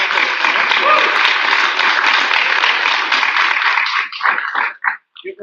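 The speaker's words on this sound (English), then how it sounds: "Give her a round of applause." Sustained applause from an audience at a coffee-and-birds mug reveal event fills the room for about four seconds, then breaks into a few scattered claps and fades, with a voice faintly underneath.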